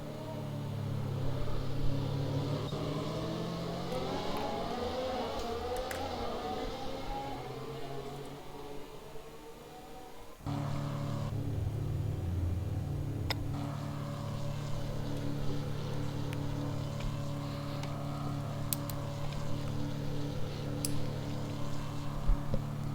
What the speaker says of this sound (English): Here he is, the safety car driver, rolling through.